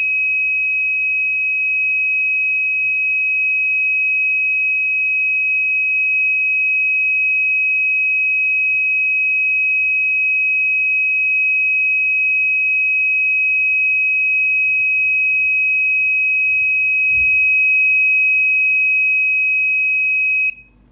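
A steady, high-pitched electronic alarm buzzer on an ESP32/ESP8266 smart home setup sounds continuously and loudly, with a brief knock or bump partway through before it cuts off.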